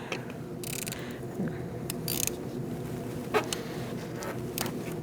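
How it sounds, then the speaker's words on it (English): A 10mm socket ratchet clicks while loosening the negative battery terminal nut on a 2008–2014 Mercedes-Benz C300 3.0L V6, with bursts of close mechanical ratcheting over a low workshop background. "We're going to use a 10mm socket, and we're going to take off our negative battery terminal."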